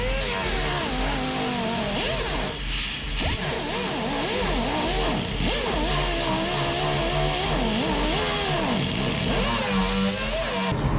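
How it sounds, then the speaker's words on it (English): A loud, continuous angle grinder whine with an 80-grit sanding disc, rising and falling in pitch as it bears down on a VW Bus body panel, steady throughout with no talking. "I'm going to take an 80 grit sanding disc on my grinder."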